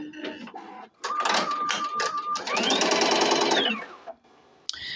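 A Tajima embroidery machine starting to stitch a robe: rapid mechanical chattering bursts with a rising whine as the needle drive speeds up, close and loud, then stopping briefly.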